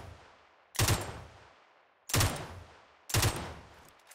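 Three loud, evenly spaced single gunshots in PUBG, each a sharp crack with a short decaying tail, separated by quiet gaps.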